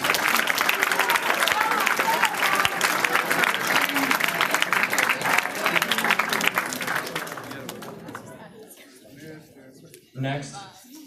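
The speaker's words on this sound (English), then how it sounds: "Give a round of applause for your teachers." A large crowd applauds steadily for several seconds, the clapping fading out toward the end before a voice begins speaking.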